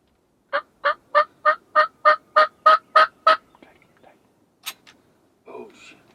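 A wild turkey gobbling in Tennessee woods near a decoy during a hunt: a rapid series of about nine loud, evenly spaced throaty notes, then a few scattered faint calls and rustles.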